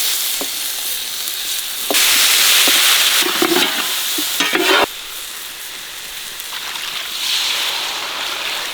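Chicken pieces hit a hot pan of golden fried onion, tomato and green chili, then sizzle and fry loudly with spices, with scraping stirs and bursts of crackling, a slight lull midway, then rising again.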